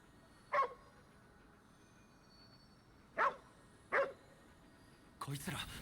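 A dog in a video game barks in three short, separate yips spread across a quiet background, followed by a brief burst of other game sound at the end.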